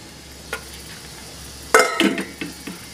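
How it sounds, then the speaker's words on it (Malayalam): A spoon stirring butter paneer masala in a pan, a light scrape followed by a louder cluster of clinks and scrapes against the metal, close up with no voices. "നമുക്കൊന്ന് നന്നായിട്ട് ഇളക്കി എടുക്കാം"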